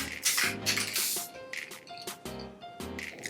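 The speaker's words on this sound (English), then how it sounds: "I've just been spraying a little bit of this spray paint on it." Spray paint from a can on a small DIY piece comes in short, repeated hissing bursts, each lasting a fraction of a second, over steady background music.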